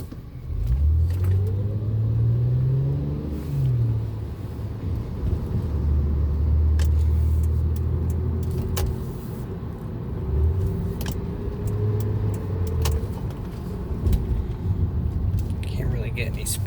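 A 2006 Honda Accord V6 drives in traffic with engine rumble and a rising, falling tonal whine that tracks speed, heard from inside the cabin, with quiet talk over it.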